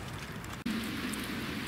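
Rain falls outdoors during a car oil change, a soft, even hiss of drops with a brief cut partway through, continuous and fairly faint with no voices.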